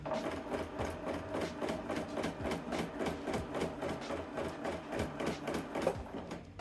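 A sewing machine runs steadily at moderate pace, free motion quilting around a semicircle ruler, with its needle producing a fast, even rhythmic stitching patter, close and quiet.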